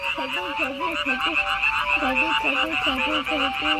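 A loud, steady chorus of frogs croaking at night in the city in rapid repeated bursts, layered over a constant high-pitched trilling drone.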